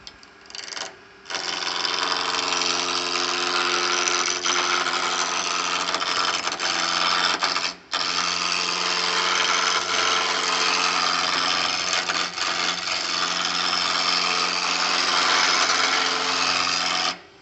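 A wood lathe spins a Christmas tree ornament blank at a slow speed, under 1,000 RPM, giving a steady, close motor hum with a couple of brief dips.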